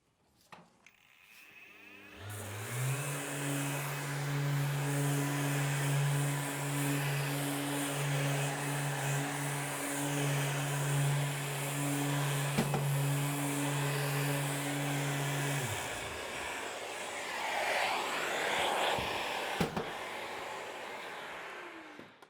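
A Festool Planex drywall sander runs with its extraction vacuum, both powered from a SYS-PowerStation mobile power unit: a loud, steady motor whine and hum holding for about thirteen seconds, then cutting off into quieter handling noises.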